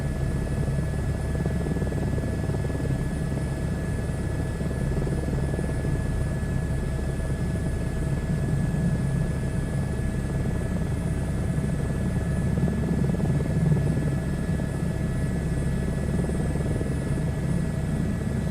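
Helicopter flying in a flight simulator game over Wales and western England: a steady, unbroken rotor and engine drone at even loudness, with a faint high whine and no talk.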